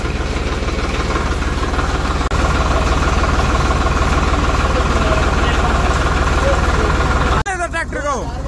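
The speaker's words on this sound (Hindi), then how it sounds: "तो भाई साहब ट्रैक्टर हो गया स्टार्ट" A new Farmtrac 60 tractor idles right after starting, its diesel engine giving a steady, loud, close throbbing chug that continues throughout, with a voice briefly audible near the end.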